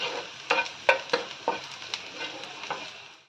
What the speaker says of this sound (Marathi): आपण जरा परतून घेऊया.